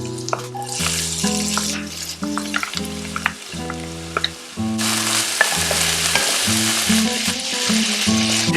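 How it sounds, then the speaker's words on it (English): Garlic and chopped onions fry in a pan with a steady, close sizzle under loud background music with melodic tones and a beat throughout. "Then add garlic, chopped onions and mix well."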